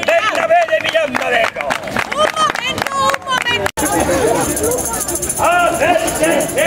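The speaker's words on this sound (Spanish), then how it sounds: "Un aplauso para el gran Bernabé de Miranda" A crowd at an outdoor medieval street market in Miranda claps for a tooth-puller performer, with loud, lively applause mixed with shouting voices and chatter. A brief break splits the clip, and the crowd noise continues afterward.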